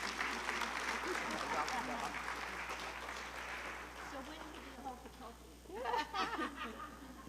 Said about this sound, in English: So give them one last applause